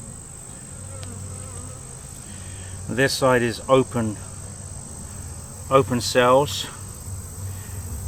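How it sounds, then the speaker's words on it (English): Honeybees and drones buzzing during a September hive inspection, a soft steady hum close by throughout, while someone speaks in two short bursts over it. "Lots of drones on this frame."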